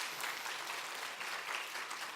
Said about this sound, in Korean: I want to applaud all the teachers for our Sunday school.